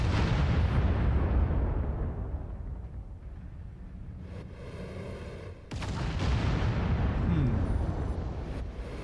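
Mech weapons fire in the video game MechWarrior 5, a run of heavy booming blasts and rumbling impacts, loud at the start, easing in the middle, then surging again with another burst near the end.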